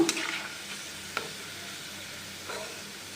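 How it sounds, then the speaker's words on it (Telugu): Ajwain leaf pakodi deep frying in oil, a soft continuous bubbling hiss with a few faint clinks near the start and middle, with no voices. "ఇంకా టూ మినిట్స్ ఫ్రై అవనిద్దామండి"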